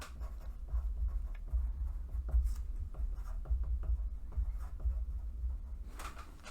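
A marker drawing a moment diagram on a board, steady squeaky scratching strokes at close range, short repeated scribbles with a brief louder stroke at the very end.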